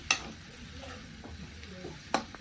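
Chopped potatoes and drumsticks being mixed into hot spiced oil, a faint close sizzle with soft scraping stirs and a couple of sharp utensil clinks against the pan.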